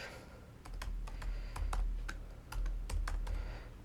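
Code being typed on a computer keyboard while writing a Python function: rapid, uneven clusters of close, crisp key clicks with short pauses between bursts, no talking.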